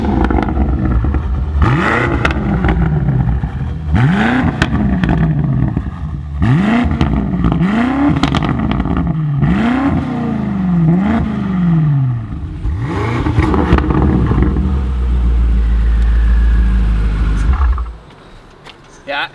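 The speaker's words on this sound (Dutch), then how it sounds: "Dit is namelijk de eerste BMW M5 in de wereld met een Akrapovic uitlaatsysteem." BMW M5 F90 fitted with an Akrapovic exhaust, valves opened in Sport Plus mode, revving repeatedly in loud rising and falling bursts, then settling to a deep rumbling idle before cutting off.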